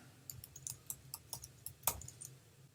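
Quiet, irregular clicking keystrokes on a computer keyboard, a short burst of a dozen or so taps with one firmer key press near the end, faint and close with no voices.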